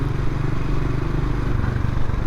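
Motorcycle engine running steadily in third gear while riding, a loud continuous drone with a rough, even low rumble and no talking.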